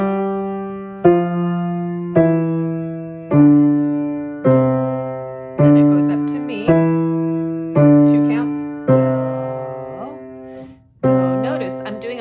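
A piano plays the Group One walking exercise from A Dozen A Day as a steady series of separate, evenly spaced notes and chords, each one struck and left to decay, heard close and alone.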